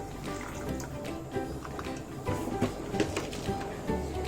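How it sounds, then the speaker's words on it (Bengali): Water is poured into a pot of simmering dal makhani, a close, uneven gurgle and splash with small drips and clinks running continuously throughout. "তাই জল অ্যাড করে দেব।"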